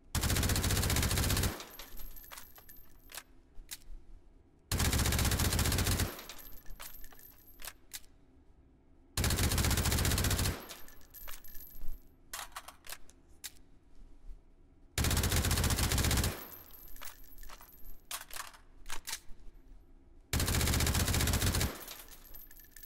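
Rapid bursts of AAC Honey Badger rifle fire in a VR shooting game, five loud sustained volleys spaced a few seconds apart, with clicks and rattles of reloading between them.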